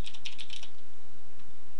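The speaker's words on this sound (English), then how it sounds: "So first thing you want to do is type in ArmAholic" Several crisp, rapid keystrokes on a computer keyboard tap out in a quick burst, close and clear, then give way to quiet room tone with no voices.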